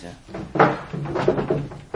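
A wooden drawer slides open with a short knock and rattle, framed by brief bursts of speech before and after.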